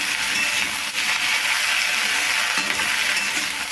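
Half a kilo of sliced okra fries in hot oil, a loud, steady, broadband sizzle that carries on unbroken, with faint utensil movements.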